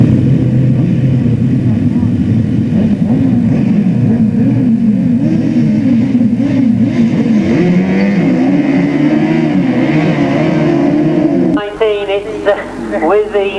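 1000cc sidecar grasstrack racing motorcycles roar loudly and continuously, engine pitch rising and shifting as they race, with a commentator talking over them before the noise drops away near the end.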